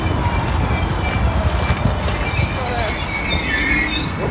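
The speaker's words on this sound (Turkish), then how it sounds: "Bizim trenimiz mi Anna?" A train rolls in loudly and close, wheels clattering rhythmically with a faint high squeal of brakes as it slows.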